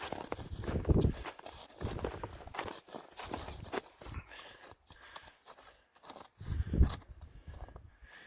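Irregular hoof steps and shuffling on the ground, with faint thuds and rustling, fairly quiet and close.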